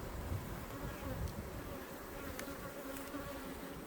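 Honeybees buzz steadily at an open hive, a dense continuous hum close by with a few louder swells as bees pass near, no talking.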